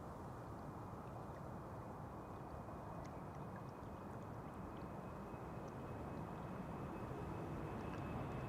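SAS Embraer 195 jet taking off from Amsterdam Schiphol bound for Copenhagen, a steady broad engine roar held at moderate distance with a faint whine, constant throughout without talk.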